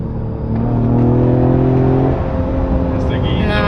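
A Ford Explorer ST engine revs hard under acceleration, a loud rising drone with a steady tone, heard from inside the cabin while people talk over it.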